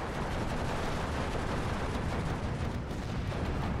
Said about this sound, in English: Coming in another strafe.